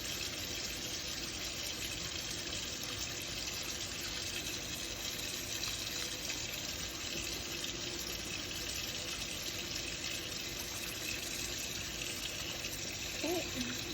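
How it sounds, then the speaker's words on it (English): Water runs steadily from a kitchen tap as hands are rinsed, a continuous hiss and gush at an even level with a faint hum underneath, fairly quiet and without any talking. "And then I'm going to rinse off the hands."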